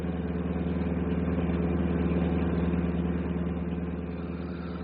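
A bus engine runs in a steady, even drone throughout, close and continuous with a low rumbling vibration and no voices.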